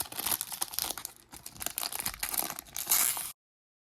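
Foil trading card pack being crinkled and torn open, a steady run of close crackling and ripping with one louder burst near the end, no speech.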